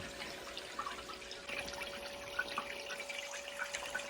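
Water trickles and splashes steadily through a Gold Hog mini sluice recirculating system set up in a basement, a soft continuous flow with small drips and gurgles and no talking.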